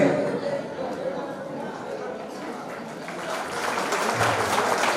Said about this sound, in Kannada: ಜೋರಾದ ಚಪ್ಪಾಳೆ ಮುಖಾಂತರ ಸ್ವಾಗತವನ್ನು